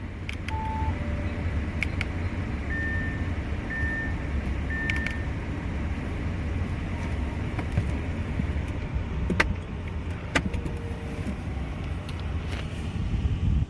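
A 2014 Audi A8 Quattro V6 chimes just after start-up, a few short, faint electronic warning beeps sounding over the steady low hum of the idling cabin.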